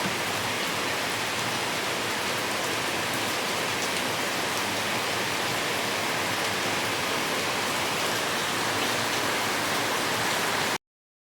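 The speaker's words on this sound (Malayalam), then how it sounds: "രാവിലെ നല്ല കിണ്ണം കച്ചിയ മഴ അതെ അടിപൊളി മഴ" Heavy morning rain pours down in a thick, unbroken hiss, loud and even throughout before cutting off abruptly at the end.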